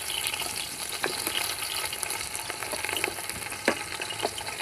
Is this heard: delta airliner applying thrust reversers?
no